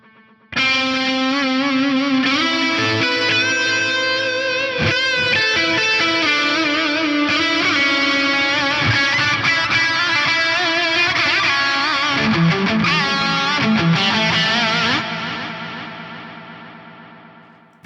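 A dual delay with cross feedback from the left to the right channel repeats a sustained synth line, building a dense, smeared faux reverb wash. The sound is loud and continuous, then fades out at the end.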